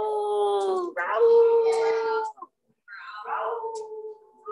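Voices at a preschool story time mimic a pickerel frog's growl, drawn-out wavering vocal groans in two long bursts with a brief pause between them.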